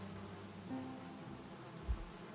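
Honey bees buzz in a steady, faint hum with a low thump near the end.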